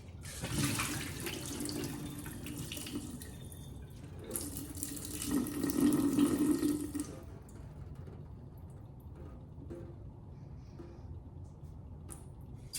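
Tap water runs steadily onto sprout seeds being rinsed in a sink, a soft continuous splashing that swells briefly in the middle and then settles into a quieter trickle, with no talk.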